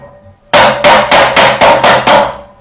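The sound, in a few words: hammering 1.5 mm sheet metal into shape by hand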